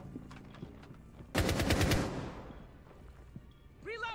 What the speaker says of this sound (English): Carly is shooting me, trying to shoot.